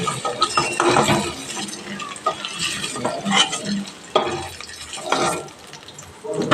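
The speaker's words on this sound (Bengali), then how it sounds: "দু মিনিট মতো আমার টাইম লাগবে পনিরটা ভাজতে" Paneer cubes frying in oil in a pan on medium heat, with a steady crackling sizzle and irregular scraping stirs of a utensil, close and fairly loud, without any speech.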